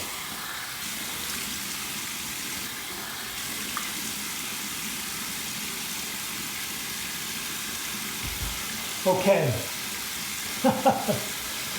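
Water runs steadily from a bathroom sink tap as hands cup it to rinse a freshly shaved head, a soft continuous hiss with a few splashes near the end and a brief spoken word.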